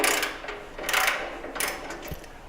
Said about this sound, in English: I forgot at this point that it took a ratchet to remove them